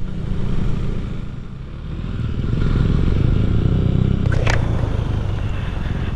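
A KTM motorcycle rides along a road on a long-distance trip, its engine a steady, continuous drone with rushing wind noise, swelling louder midway through, and no talking.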